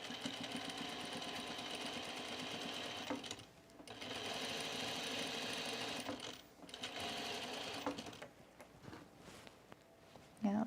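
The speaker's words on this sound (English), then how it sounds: "I usually top stitch from the right side, but I'm going to take a chance and do it from this side." A sewing machine top stitches a V-neck coat from the wrong side, its motor running in two long close bursts separated by short pauses, followed by a brief stop-start whir at the end.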